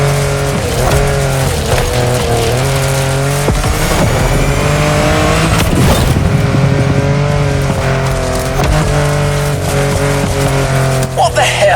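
An off-road car in The Crew Motorfest drives with a loud, constant engine drone that rises and falls as it revs, with tyre skids and squeals mixed in and no pauses.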